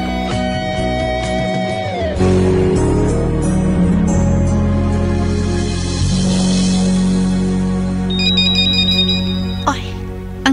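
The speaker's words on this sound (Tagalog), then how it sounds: "Ay, ang telepono." An electronic telephone ringtone chimes in a repeating melodic pattern, loud and near, with some voices underneath.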